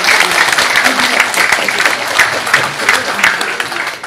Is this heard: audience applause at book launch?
yes